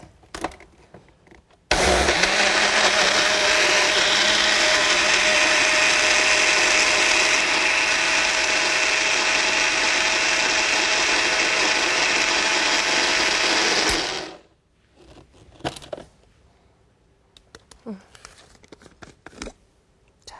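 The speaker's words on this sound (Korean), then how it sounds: "이것을 입자 없이 아주 곱게 갈아주세요" A blender whirs loudly and steadily for about twelve seconds, finely grinding ingredients for a honey sauce for a fresh ginseng dish, then cuts off, leaving faint kitchen clatter.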